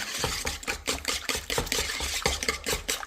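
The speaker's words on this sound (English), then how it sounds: "mixing it with the whisk" A whisk beats milk in a bowl for vanilla custard sauce, producing a steady close clatter of rapid rhythmic strokes against the sides with no speech.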